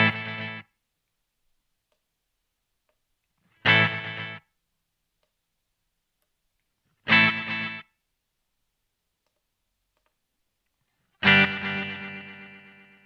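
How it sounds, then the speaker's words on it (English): Four short bursts of guitar through a Strymon Volante tape echo pedal, spaced with silence between, set in a rhythmic playback-head pattern, the last one trailing longer. "You can hear that pattern or that rhythmic sort of sound coming through there just by manipulating the volume of those"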